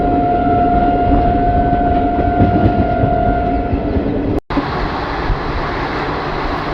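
The Malda–Howrah Intercity Express runs on after leaving Ghagharaghat, giving a steady, loud, close rumble with a sustained tonal hum. A brief gap cuts in partway through, and no one speaks.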